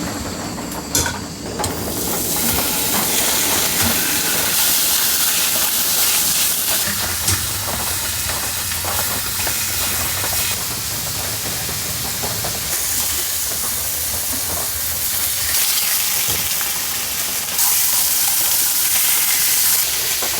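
Double cheeseburger patties frying and sizzling on a cooktop in a rustic cabin during heavy rain, a steady loud hiss that fills the whole stretch with no talking.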